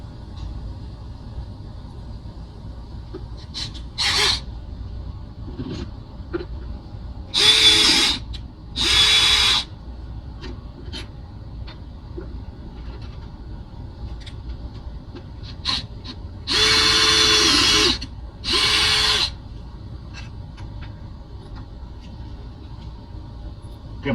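A power drill drives screws into outdoor deck boards in several loud, separate bursts of a few seconds each, with quieter handling, clatter and tapping in the pauses between them.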